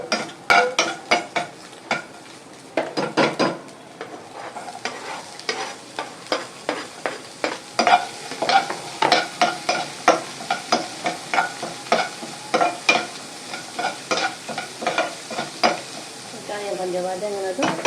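Onions fry in a pan for carrot rice while a spoon stirs them, giving a sizzling bed under rapid, rhythmic metallic scrapes and clacks that run close and fairly loud throughout.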